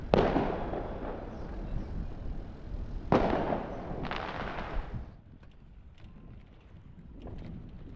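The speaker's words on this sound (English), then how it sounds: "Libyans have this weird habit of setting off fireworks in the daytime" Daytime fireworks boom in the distance in Zliten, Libya, a few sharp cracks and rolling bursts spaced seconds apart, with wind noise and faint outdoor ambience between them.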